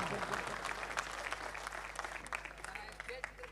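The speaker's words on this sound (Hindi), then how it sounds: "सारे लोग ताली बजाकर निकत को बताएं" An audience at a Hindi poetry recital (mushaira) claps in a dense, sustained wash of applause, with crowd murmur and some indistinct voices mixed underneath.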